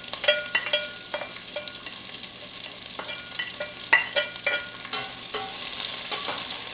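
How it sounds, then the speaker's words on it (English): Chopped onion, ginger and garlic frying in a pan for a red kidney bean curry, a steady close sizzle broken by frequent clicks and scrapes of stirring, with no talk. "and let our onions fry"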